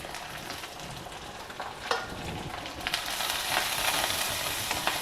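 Dals, broken cashews, grated ginger and curry leaves stir-fried in a pan give a steady close sizzle, with a few sharp scrapes of the spoon and sizzling that grows louder toward the end.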